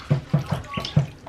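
Baby ducklings splash in warm bath water, making a run of five or six quick, close paddling splashes in a loose rhythm, with a faint voice in the background.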